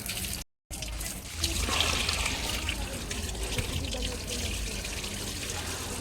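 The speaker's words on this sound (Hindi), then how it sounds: "तो मैंने सोचा चलो क्यों ना पानी लगा देते हैं" Water poured onto heat-wilted potted plants and rose bushes outdoors, a steady close splashing and trickling that runs on after a brief dropout, with some faint background noise.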